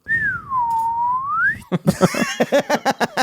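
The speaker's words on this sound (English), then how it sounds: "I want to whistle." A single long whistle glides down and back up, followed by a quick series of short, rhythmic whistle-like chirps.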